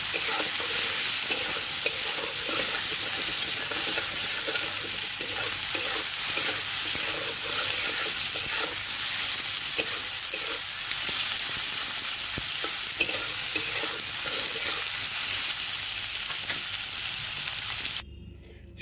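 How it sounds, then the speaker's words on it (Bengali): Soybean chunks seasoned with turmeric and salt fry in hot oil, giving a steady, close sizzle with frequent stirring scrapes and clatters running throughout. "সয়াবিন আমি একটু হলুদ আর একটু নুন দিলাম। এটাকে ভালো করে ভেজে নেব।"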